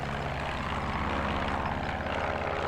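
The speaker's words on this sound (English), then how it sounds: "Oh, that is a plane." An airplane flies overhead in a video game, heard as a steady, loud droning engine rumble that holds evenly throughout without talk.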